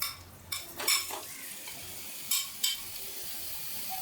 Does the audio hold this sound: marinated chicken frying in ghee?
yes